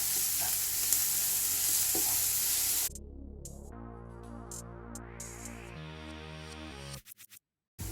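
Onions fry in a pan for a mushroom masala, a loud broadband sizzle for the first few seconds, after which tonal, music-like sound takes over.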